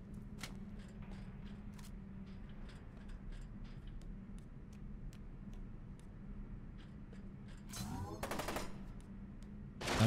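Rapid gunshots crack in bursts during F.E.A.R. 2 Project Origin, sharp repeated reports over a low hum, ending in a louder rattling flurry.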